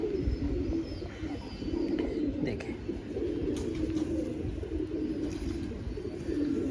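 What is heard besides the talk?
pigeons cooing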